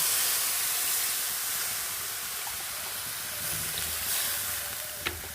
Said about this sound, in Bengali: এই পর্যায়ে আমি দিয়ে দেব পরিমাণ মতন জল